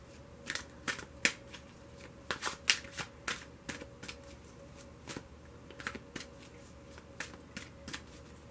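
Romance angel cards being shuffled for a tarot reading, a run of soft crisp riffles and slaps in irregular clusters, close and quiet with no talking.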